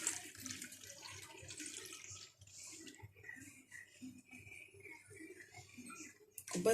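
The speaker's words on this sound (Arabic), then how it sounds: "هحط كوبايه ميه ساقعه" Cold water poured into a glass while making jelly in a home kitchen, a steady trickling splash running close and moderately loud for several seconds, with faint clinks and handling noise around it.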